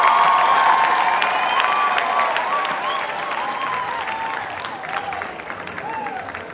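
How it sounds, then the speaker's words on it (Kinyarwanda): Loud, sustained applause from an audience at an award ceremony, dense clapping with some cheering that holds steady and tapers slightly toward the end. "Wow, amashyi menshi cyane. So much hand claps."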